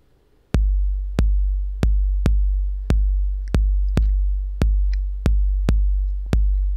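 Deep 808 bass notes from a sample form a trap-style bass line, hitting in a steady, evenly spaced rhythm, each boomy low tone decaying slightly before the next, with no other instruments.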